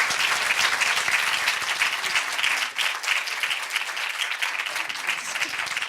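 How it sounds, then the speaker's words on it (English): A crowd applauds a panel and speakers at a discussion on Syrian stories, a steady, dense wash of many hands clapping that holds at an even level throughout. "Let's give them a round of applause."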